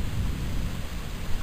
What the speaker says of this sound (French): On est en bordure ouest de l'orage.